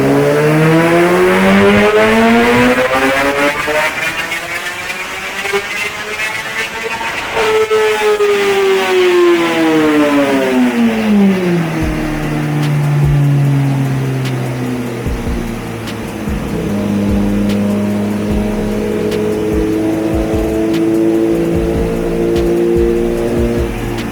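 A 2021 Kawasaki ZX-10R superbike revs hard on a dyno indoors, heard loud and sustained, its engine pitch sweeping up and falling, then climbing and dropping again with steady high-rpm roar throughout.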